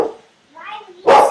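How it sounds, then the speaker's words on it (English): A loud dog lets out a sharp, close bark at the end, following brief whines or voice-like sounds that may overlap with talking indoors. "that's my dog. I don't know. He's very loud."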